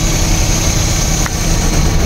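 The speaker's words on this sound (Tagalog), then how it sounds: "observe po tayo kung mayroon bang reaksyon ang makina" A Suzuki K6A turbo engine in a DA64W runs steadily during a cylinder test for low power, a constant idling drone with a faint high whine and a brief small tick midway.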